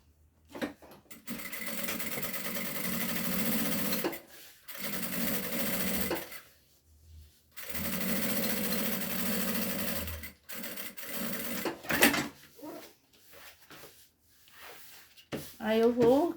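A sewing machine stitches a strap in several loud, close bursts of motor whir, separated by short pauses, while a person talks briefly between the runs.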